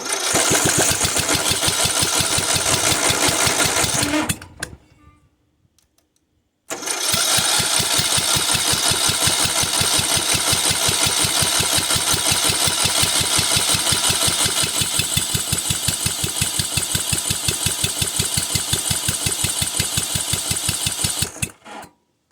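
A Murray riding mower engine on model 2500 cranks and fires loudly in a steady rapid chatter, cuts out for about two seconds, then runs again for a long stretch before stopping.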